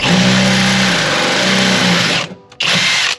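A power drill whines loudly drilling holes in the metal of a Nissan 350Z, stopping briefly near the end before starting up again for another short burst.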